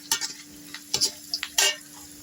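Sliced onions sautéing in a pan for biryani, with several short bursts of stirring and sizzling scrapes, close and fairly soft, separated by brief quiet gaps.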